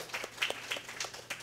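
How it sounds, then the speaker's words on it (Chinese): Audience clapping to thank a presenter after a functional programming talk, a short patter of scattered claps with no voices. "那我们再次掌声谢谢 Cindy。"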